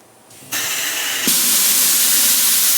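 A tire bead seater fires a sudden loud blast of rushing air that starts abruptly and keeps hissing steadily, growing stronger partway through, close and harsh.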